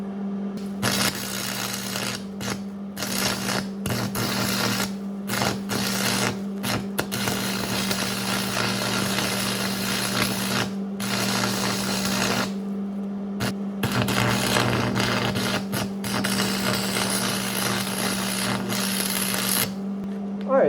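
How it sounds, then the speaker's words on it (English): Welding a bead around the outer cup of a bushing on a Chevy truck project, with a steady buzzing, crackling arc running in long close bursts broken by short pauses, and a voice talking over it. "all I'm really doing here is trying to weld a bead around the outer cup of this bushing"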